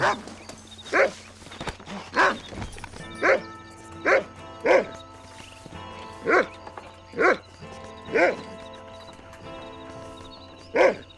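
A dog in the Red Dead Redemption video game barks about ten times at a steady, roughly once-per-second rhythm, each bark short and clear over a low, constant game background hum.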